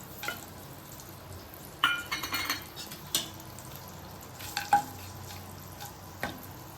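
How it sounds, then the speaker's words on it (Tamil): Spices fry in hot oil in a kadai while a Virudhunagar-style elephant foot yam chops dish is cooked, with a soft steady sizzle broken by scattered clinks and scrapes of stirring. "ஒரு கடாய் வச்சு எண்ணெய் ஊற்றி வச்சுருக்கேன். இப்போ வந்து எல்லா ஸ்பைசஸும் போட்டுக்கிறேன்."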